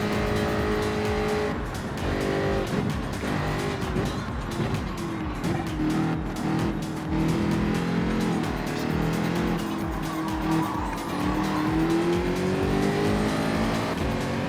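Racing cars in the video game Gran Turismo 7 roar steadily through the whole stretch, engines rising and falling with gear changes and occasional tire squeals, loud and continuous with no voices.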